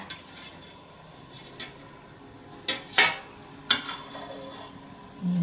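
Ladle scooping drumstick sour curry for serving, a few sharp metallic clinks and scrapes against the pot, with a brief bubbling swell near the end.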